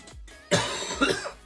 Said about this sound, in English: that is like lingering cough, which is really bugging me